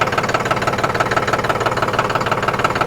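A VST Zetor 5011 tractor engine chugs steadily at idle, a loud rhythmic knocking pulse repeating evenly throughout with no voices.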